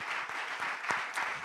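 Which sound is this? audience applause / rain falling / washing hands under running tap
audience applause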